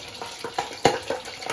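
Pork leg (pata) deep-frying in hot oil, a steady crackling sizzle punctuated by sharp popping bursts at uneven intervals, close and fairly quiet.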